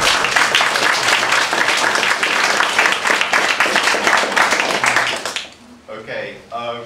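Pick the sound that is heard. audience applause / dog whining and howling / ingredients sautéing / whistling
audience applause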